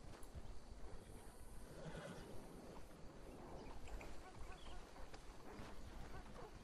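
Horse neighing with clip-clopping hooves in a video game, a faint whinny and scattered hoof beats under quiet ambient game sound and faint voices.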